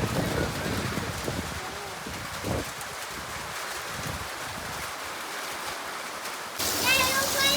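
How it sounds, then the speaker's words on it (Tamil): Hail falls steadily during a storm in Nepal, a dense, continuous patter of ice on surfaces nearby, with a voice speaking faintly beneath it. "இன்றைக்கி வந்து ஆலங்கட்டி மழை பெய்யுது."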